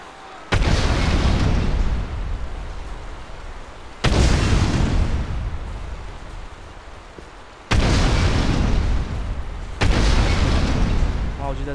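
Four loud explosions from GTA San Andreas with a GTA V sound mod, each a sharp booming blast trailing into a rumbling tail, spaced a few seconds apart with the last two coming closer together.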